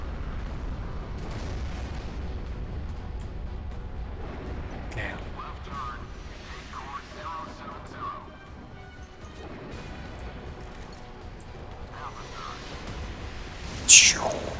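A P-750 Meteorit missile fired from a submarine in the naval combat game Modern Warships, rumbling launch booms and crashes rising and falling over several seconds, ending in a sharp loud explosion, with someone talking excitedly over it.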